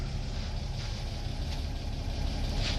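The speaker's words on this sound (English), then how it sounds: "A good idle, smooth idle." A car engine idles smoothly just after starting, a steady low rumble held close and even for the whole stretch with no talk.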